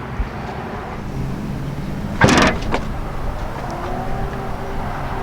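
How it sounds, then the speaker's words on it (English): A hands-free power lift gate on a 2020 Lincoln Aviator opens with a brief mechanical whir and latch release near the middle, followed by a soft motor hum as it rises, against steady outdoor background noise. "you do have a standard hands-free power one, so all you have to do is wave your foot under the bumper to open it up"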